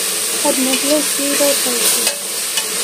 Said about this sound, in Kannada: ಧನಿಯಾ ಪುಡಿ 2 ಸ್ಪೂನು, ಇಷ್ಟು ಹಾಕಿ ಇವಾಗ ಮಿಕ್ಸ್ ಮಾಡ್ಬೇಕು